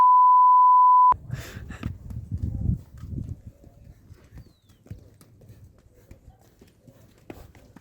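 Pack mules, horse-donkey crosses, carrying loads in Bogota, with hooves clopping on hard ground at close range after a short beep, a shuffling uneven rhythm as people talk nearby.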